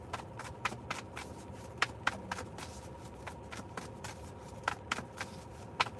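Tarot cards being shuffled by hand, a run of quick, crisp riffling snaps and soft taps in an uneven rhythm, close and quiet, with no voice over it.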